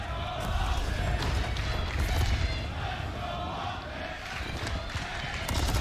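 An esports crowd at the Call of Duty League Major 1 2024 elimination final, OpTic Texas against Atlanta FaZe, roars in a steady sustained wave while commentators talk over it.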